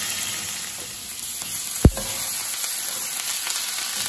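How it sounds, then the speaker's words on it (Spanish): Onion, chile and garlic fry slowly in butter in a pan with a continuous crackling sizzle, broken once by a sharp utensil knock midway, no voices. "También vamos a poner la cebolla, el chile y el ajo, que se vayan dorando despacio."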